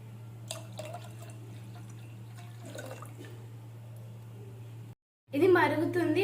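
Milk is poured into a pot of water for rice pudding, giving a soft liquid trickle over a steady kitchen hum, followed by a brief cut and a louder splashing pour at the end.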